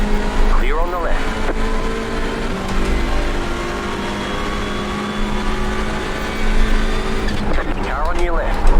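Hyundai Elantra race cars lapping Silverstone in the iRacing sim, a steady droning engine note with other cars buzzing alongside and brief tire squeals near the start and end, under a spotter's radio calls.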